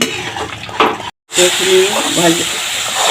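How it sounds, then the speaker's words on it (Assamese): Chital fish frying in mustard in a pan, a loud steady sizzle and crackle with a sharp cut of near silence partway through, then the frying resumes with faint stirring. "মোৰ গোটেইখিনি ভজা হৈ গৈছে"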